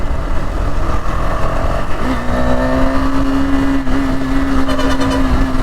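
A Royal Enfield GT650 motorcycle on the move, its engine droning loudly and continuously from close by, with a steady rising note partway through as the bike pulls, accompanied by constant wind and road rush and no talking.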